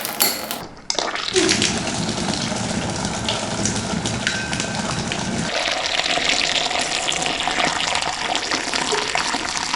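Steady rushing of water pouring from a boiling water kitchen tap, a continuous gushing flow after a brief quiet start, close and fairly loud.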